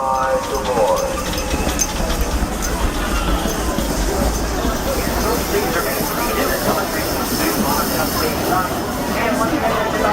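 Disneyland Railroad train pulling into a station at night, a steady low rumble and rolling clatter under a crowd's chatter and loud announcements, continuous throughout.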